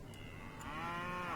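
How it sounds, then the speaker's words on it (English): Cattle mooing in the Civilization V strategy game, a single drawn-out low moo rising slightly in pitch, soft and alone without talk. "Moo is what my locations say."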